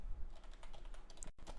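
Code being typed on a computer keyboard: a quick, steady run of soft close key taps over about a second and a half, with no voice.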